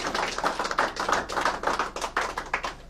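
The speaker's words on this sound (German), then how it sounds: "Ich glaube, das ist ein Applaus wert, was der Trainer der Gastmannschaft gesagt hat." Applause at an ice hockey press conference after the visiting coach's remarks, a steady stream of many hands clapping at close range for about three seconds, with no speech over it.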